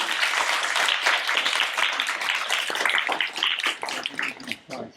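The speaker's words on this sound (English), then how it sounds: "short round of applause for the three speakers" Short round of audience applause for three speakers at a talk, dense broadband clapping throughout that thins out toward the end.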